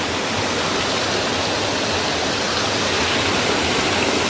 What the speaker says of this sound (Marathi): चला धबधबा